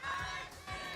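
A large crowd at an esports grand finals playoff roaring and chanting in unison, a loud, full burst of massed voices that swells, dips briefly, then surges again.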